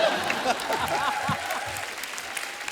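A comedy performer uses his voice and hands to imitate a crowd of people clapping from their balconies. The result is a short, dense burst of applause-like patter lasting a few seconds, heard up close.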